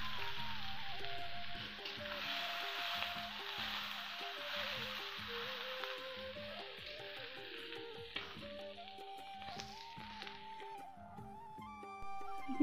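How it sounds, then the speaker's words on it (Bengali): Onion and garlic fry in melted mutton fat, sizzling steadily throughout while a utensil stirs and scrapes the pan in irregular knocks. "এরপর পেঁয়াজ রসুনগুলো ভালো করে ভেজে নেব।"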